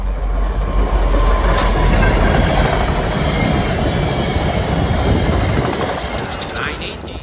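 CN freight train 570 rolls westbound on the Halton Subdivision with locomotive 5699 leading. It makes a loud, continuous rumble with metallic clatter and wheel noise, passing close by.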